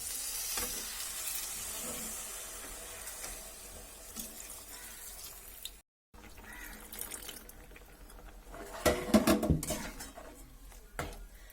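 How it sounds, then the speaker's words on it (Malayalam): Plantain simmering in thin second-extract coconut milk is stirred in a pan, a soft steady bubbling hiss with spoon scrapes, a brief gap, then a louder burst of clattering stirs near the end. "നമുക്കൊന്ന് ഇളക്കി കൊടുക്കാം കേട്ടോ"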